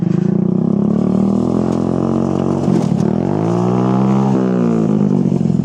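A GSXR 1000 or ZX10R superbike engine revs hard and steadily under throttle, close and loud, its pitch sweeping up and down through several throttle blips, with no talk over it.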